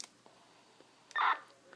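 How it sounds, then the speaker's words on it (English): A brief burst of digital radio data tone, a short buzzy warble lasting under a quarter second, stands out against quiet static and faint clicks. "I have the MDC as the end tone."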